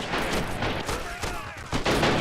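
Artillery cannon fire booms across a video game battle, with a chaotic mix of heavy blasts and dense gunfire while a voice talks over the din.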